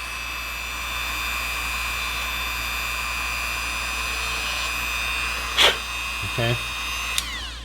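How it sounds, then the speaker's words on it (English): Small rotary drill touched to the surface of a Space Station K7 model spaceship, a steady high whine over a constant hum, with a few brief scraping contacts near the end and a short spoken word. "I'm randomly choosing some spots just to touch the drill to it"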